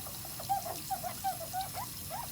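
Soft wet squelching and squeaky squishing sounds of a slimy, mouldy ink pad being squeezed repeat in quick irregular bursts, close and fairly quiet.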